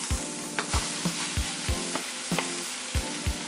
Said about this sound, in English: I'm gonna add my drained meat back into my skillet.